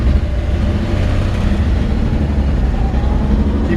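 The engine of a 1954 Chevrolet 3100 pickup with a column-shift three-speed runs at a steady, loud, low rumble, idling close by with no talk.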